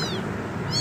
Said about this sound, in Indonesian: Anak kucing nih.